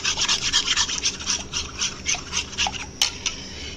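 Egg beaten briskly in a bowl for a sweet potato snack, a steady run of quick, close scraping and rubbing strokes that keeps up without pause and with no voices over it.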